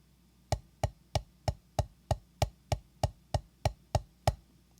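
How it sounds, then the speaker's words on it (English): About a dozen evenly spaced, sharp stick hits on a drum or practice pad, played as a triple, double and single sticking pattern, crisp and fairly quiet with no voices. "we're going to do a full 3, 2, 1, meaning we'll start with a triple, follow it with a double, and end with a single"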